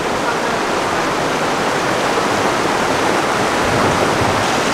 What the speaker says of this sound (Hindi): ये चश्मा सामने बह रहा है जो कि मरी अयोध्या से आ रहा है